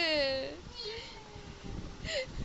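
A man imitates a cat's meow with a couple of short, whiny, falling vocal cries, near and fairly loud, with brief talk between them.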